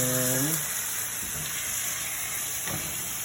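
Fresh minced garlic sizzles in a hot pan with a steady frying hiss, and a voice speaks briefly over it at the very start.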